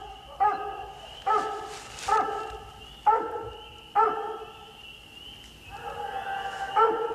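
A hunting dog at a competition raccoon hunt barks at a treed raccoon: about seven loud, ringing barks at uneven intervals, some drawn out into longer bawls, with quieter noise between them.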